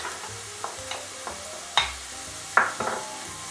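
Diced carrot and red vegetables for a Bolognese are stirred in a sizzling frying pan, with a steady crackle under a handful of distinct spoon scrapes and knocks against the pan, close and alone.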